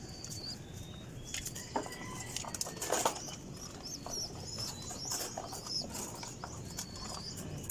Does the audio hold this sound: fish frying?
no